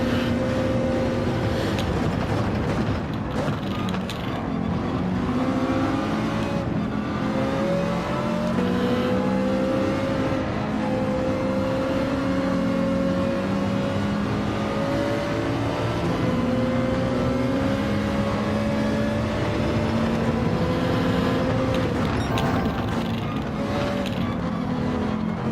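Race cars lapping a track in a Gran Turismo online qualifier for the Manufacturers Cup, engines droning loud and continuous with rising and falling pitch as gears shift, several cars layered together with no pauses.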